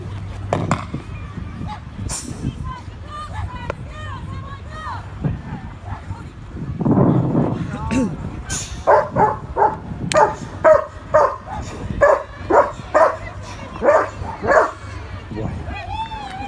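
Trained police dogs bark repeatedly in a park, loud, close barks in a quick rhythmic series, mixed with yips and whimpers while someone talks over them.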